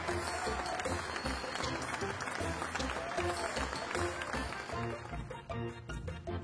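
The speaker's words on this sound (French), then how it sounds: "les enfants applaudissent si fort que Patapouf n'ose même plus tourner la tête" Children applaud loudly around a circus ring, a dense, steady clatter of clapping mixed with music that runs the whole time and eases slightly toward the end.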